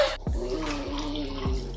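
Wine pours from a bottle into a glass, a short run of liquid glugging and splashing up close, with a few bubbling gurgles over less than two seconds.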